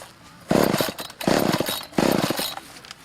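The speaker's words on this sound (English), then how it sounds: "Rick trying this chainsaw 15 times" A chainsaw cuts a Christmas tree in three loud, near bursts of about half a second to a second each, its engine snarling up and dropping back between cuts.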